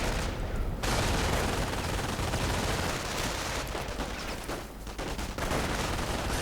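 Dense gunfire from an MG42 machine gun in a World War II strategy video game, sustained rattling bursts with booming impacts throughout, loud and continuous with no pauses.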